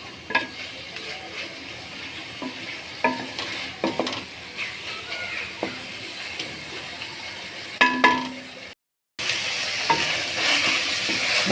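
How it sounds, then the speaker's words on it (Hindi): Minced meat (keema) is stirred and fried in oil in a pan over a medium flame for a village-style aloo keema. A steady sizzle runs throughout with repeated scraping stirs, briefly cutting out near the end before resuming. "अच्छे तरीके से आपने कीमे की भुनाई करनी है ताकि ये ऑयल उसका निकल जाए"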